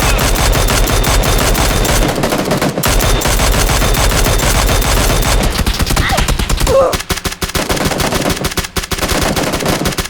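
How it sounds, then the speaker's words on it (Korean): Rapid automatic gunfire from the battle royale game PUBG, loud and nearly continuous with dense bursts of shots and short breaks, some distant shots mixed in, with a player's voice faintly under it. "150에 나 총 맞았어"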